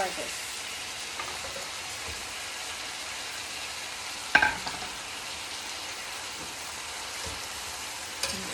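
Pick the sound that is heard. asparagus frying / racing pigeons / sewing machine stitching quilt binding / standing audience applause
asparagus frying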